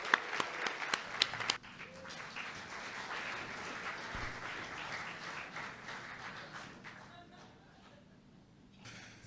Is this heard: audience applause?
yes